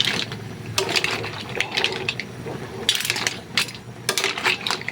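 A pot of tinola soup with mussels, chicken wings and chayote is stirred, with loud, close clinking of shells against the pot and sloshing broth in irregular bursts.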